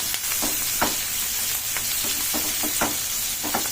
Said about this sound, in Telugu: ఉల్లిగడ్డ మంచిగా